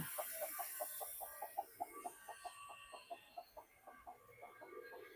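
A newly brought-in chicken clucks in a rhythmic series of short, fairly quiet calls, outdoors on a drizzly, overcast day near a pigeon loft.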